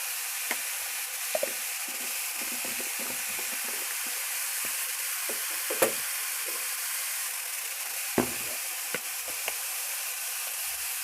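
Ground spices, turmeric and cumin among them, sizzle and fry steadily in a pan, with a continuous close hiss broken by occasional soft stirring clicks and scrapes.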